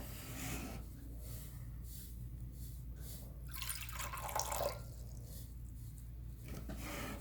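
Liquid pours and splashes into a container, a soft watery trickle that swells briefly midway, with a steady low hum underneath.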